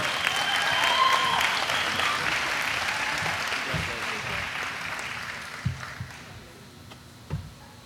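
A graduation crowd at an education commencement ceremony claps steadily, the dense applause tapering off toward the end into scattered individual claps and a few thumps.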